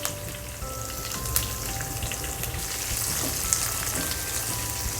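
Chilies, sesame seeds and curry leaves sizzle in hot oil as a tempering in a pan, a steady close crackling fry with scattered pops, faint and continuous with no talk.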